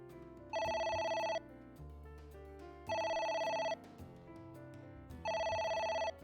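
A phone rings in the video game AI: The Somnium Files, three long electronic bursts, each about a second, separated by pauses with low music-like background tones underneath.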